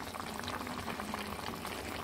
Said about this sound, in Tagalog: O, kumukulo na.